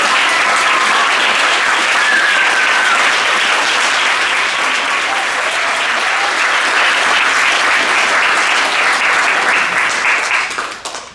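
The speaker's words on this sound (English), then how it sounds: "One more round of applause for this year." Loud, sustained applause fills a hall at the Washington State Poetry Out Loud final competition, a dense crowd clapping evenly for about ten seconds before it quickly fades at the end.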